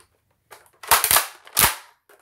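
A Nerf long gun fires a round, giving a few sharp plastic snaps and clacks in quick succession close by, followed by a second distinct crack, with quiet gaps around them.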